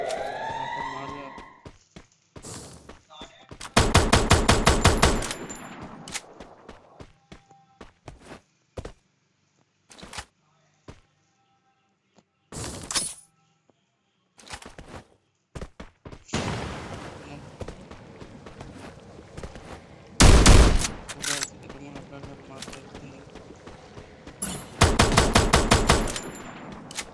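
Video game gunfire from Free Fire plays in several loud, rapid automatic bursts separated by quieter stretches with scattered single shots and game effects.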